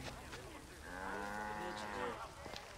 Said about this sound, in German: Da ist ein Rind!